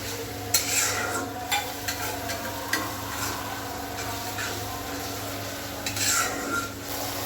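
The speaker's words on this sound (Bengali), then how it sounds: "জিরার গুঁড়া, মশলাটা খুব সুন্দর করে কষিয়ে নিতে হবে।" A spice masala with cumin powder being sautéed in a pan for an okra curry: a steady low sizzle under repeated scraping strokes of a spatula, with a few louder scrapes, no talking.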